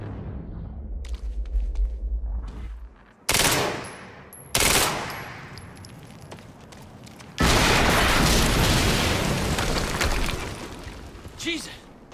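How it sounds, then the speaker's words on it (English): Explosions and gunfire in the Quantum Break video game, set in an industrial area, come as sudden loud broadband blasts followed by a sustained roar of firing and rumble, with game voices talking over parts of it. "HQ, we just heard an explosion near the harvesting perimeter."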